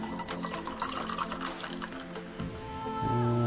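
Peach nectarine juice pours into a cocktail glass for a Pink Beach Sunset drink, a close, steady trickle of liquid whose pitch rises as the glass fills.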